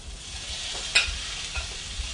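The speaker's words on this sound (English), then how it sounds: "We're going to do a little sizzling because water and hot grease, they don't like each other very much." Hot grease sizzles and crackles steadily up close as water hits it while cooking okra, with a few sharper spits and pops breaking through the hiss.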